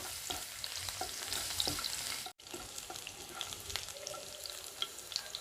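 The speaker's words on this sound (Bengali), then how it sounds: "রসুন কিউবস 1 টেবিল চামচ। এক মিনিট ভেজে নেব।" Garlic cubes frying in a pan with a dense, bright, continuous sizzle and crackle, briefly cutting out midway before resuming, close and steady with no talking.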